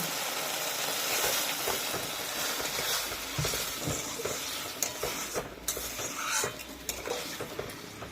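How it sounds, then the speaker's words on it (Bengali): Bit of water poured into fried spices in a pan for a small-fish curry, a steady hiss and sizzle with scraping and stirring clatter of a utensil against the pot. "মশলা কষানো হয়ে গেছে, এবারে সামান্য জল দিচ্ছি।"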